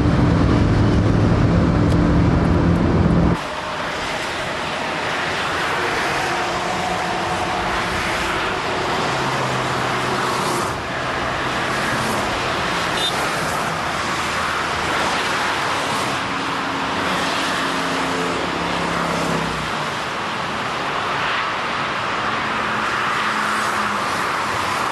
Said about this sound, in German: Es kommt gerade ein Porsche von hinten, der hat es sehr eilig,